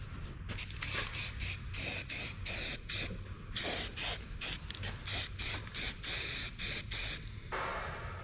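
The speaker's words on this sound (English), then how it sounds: "So try and put as thick a coat of this on as I possibly can, just to protect it." Aerosol spray laying a thick protective coat onto a truck chassis, bursts of close hissing spray repeated in short rhythmic pulses of about half a second each, no talking.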